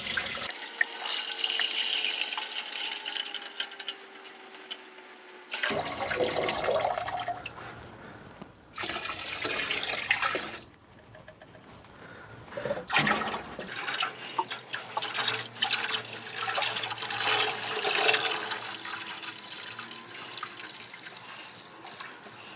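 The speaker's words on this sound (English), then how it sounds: "I'm going to fill it with water and a bit of the old Screwfix heavy duty degreaser, and maybe a little blob of fairy liquid" Tap water splashes and gushes into an ultrasonic cleaner tank in a workshop, starting and stopping in several bursts with drips and quieter gaps between pours.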